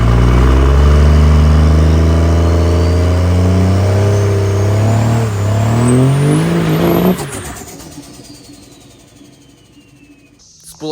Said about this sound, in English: Spool up test complete.